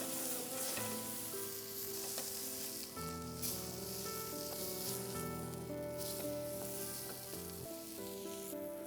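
Basa fish frying in a pan of butter, giving a steady close sizzle with soft crackles, while music plays underneath throughout.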